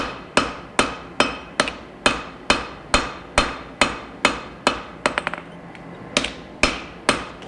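A hammer strikes a Wootz steel chef's knife during forging in an even rhythm of about twenty sharp, ringing metallic blows, close and clear, with a brief rattle of lighter taps partway through and no voices.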